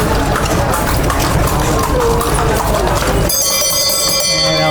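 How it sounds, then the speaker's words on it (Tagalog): A bell used as a horn rings out repeatedly amid busy street noise and clip-clopping on Calle Crisologo in Vigan, Ilocos Sur, then sustained bright bell tones take over toward the end. "parang may bell sila, busina nila yon"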